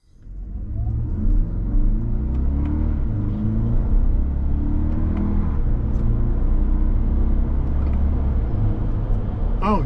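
A Toyota Grand Highlander Hybrid Max SUV drives along with a steady low engine and road rumble heard from inside the cabin, smooth and continuous with slight rises in pitch as it accelerates.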